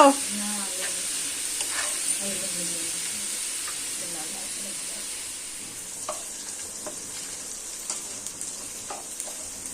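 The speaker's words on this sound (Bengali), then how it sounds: "ডিম আর আলু একসঙ্গে ভাজা করে নিচ্ছে" Eggs and potatoes fry together in a large nonstick wok, giving a steady close sizzle with faint scraping and stirring throughout, while a voice talks quietly in the background near the start.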